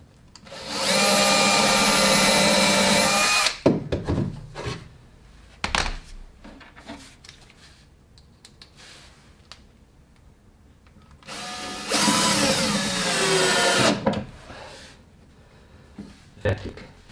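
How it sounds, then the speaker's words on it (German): A hinge boring bit cuts into an 18 mm wood board, giving two loud sustained drilling bursts, each a few seconds long, with quieter clatter and handling noises between them. "Scharnierbohrer."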